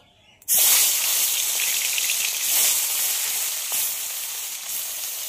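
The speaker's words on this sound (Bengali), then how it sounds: "এবার নুন হলুদ মাখিয়ে রাখা মাছটা দিয়ে দেব ভাজার জন্য।" Turmeric- and salt-coated fish hits hot mustard oil in a heated wok with a sudden loud sizzle, then fries in a steady, dense, close crackle for several seconds.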